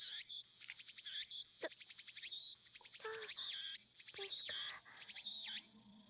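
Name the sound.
cicadas chirping, from the video game Steins;Gate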